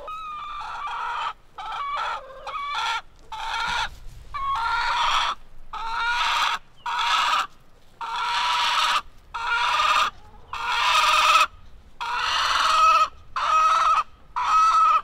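A loud hen clucks and calls in a chicken coop, letting out a long series of sharp, repeated squawking bursts separated by short pauses, close to the microphone and with no one talking.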